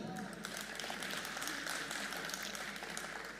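Audience applause at a Marathi poetry recital, a steady dense wash of clapping from a crowd, sustained and even throughout with no pauses.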